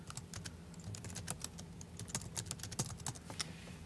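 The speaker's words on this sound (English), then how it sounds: "I'll just type Appalachian football." Fingers tap out quick, light clicks on a Mac computer keyboard, a close, steady run of keystrokes with no talking.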